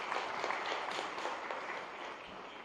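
Steady applause from a conference audience for a chief minister in Ahmedabad, dense clapping at an even level throughout, fairly faint and without voices.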